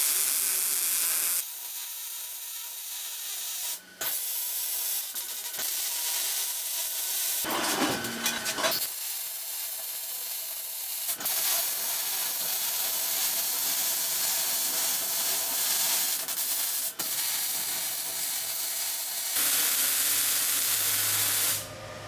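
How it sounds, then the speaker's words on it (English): Welding the legs of a piece of shop equipment, a long continuous crackling hiss close by, broken by a few short pauses and a brief grinding-like burst midway. "Got the legs all welded up."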